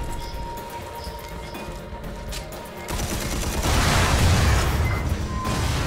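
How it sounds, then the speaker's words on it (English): Fuel tanks blow up in the video game Red Faction Armageddon. A rumbling, crackling run of blasts swells into a heavier burst of explosions midway and keeps roaring to the end. "he's blowing up every single fuel tank in there"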